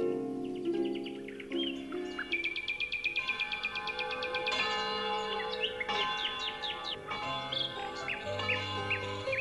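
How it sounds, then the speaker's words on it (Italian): Church bells ring steadily while birds chirp and trill throughout, bright overlapping calls over a continuous background hum. "nella valle suonavano le campane e gli uccellini cantavano felici"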